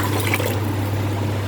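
Water is poured into a pot of toor dal rasam in a home kitchen, a steady, continuous rushing splash with a low hum beneath, with no one talking over it.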